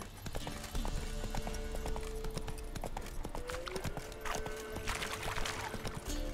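Horse hooves clip-clopping at a steady pace in The Witcher 3: Wild Hunt, loud and continuous over game music and ambience with no talking.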